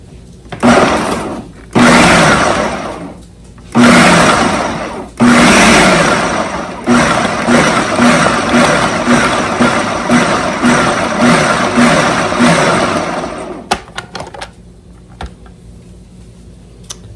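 A food processor pulses butter into flour: four short, loud whirring bursts with pauses between, then a long continuous run of about seven seconds before it stops and leaves faint clicks.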